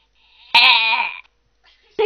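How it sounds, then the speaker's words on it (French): A goat bleats once, loud and close, a wavering nasal cry added in editing, followed by a short bit of a voice. "Je mettrai une chèvre au montage."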